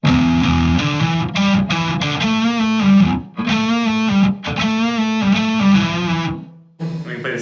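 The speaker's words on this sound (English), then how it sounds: "If I combine them and you get the rhythm guitar into it, you can hear a little increase in the high tones." An electric rhythm guitar plays through distortion and effects pedals with boosted treble, loud strummed chords ringing in steady phrases with brief breaks, ending with a short quieter tail.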